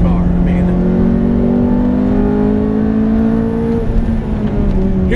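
A manual Ferrari F430 sports car engine revs loudly and steadily, heard close from inside the car as the pitch climbs and holds, with someone talking over it.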